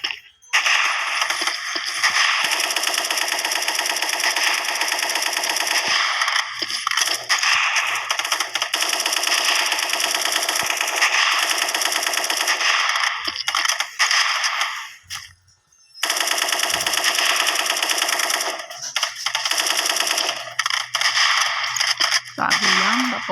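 Rapid gunfire in the video game Counter-Strike, dense continuous bursts filling most of the stretch with one short pause, loud and close with no talk.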